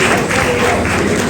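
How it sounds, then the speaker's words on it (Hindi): An audience at a commemoration of Sant Shri Sevalal Maharaj's birth anniversary breaks into loud, dense applause, a continuous wash of clapping from a large crowd, close and steady throughout. "और आप सभी की जोरदार तालियों की गड़गड़ाहट हम सुनना चाहेंगे।"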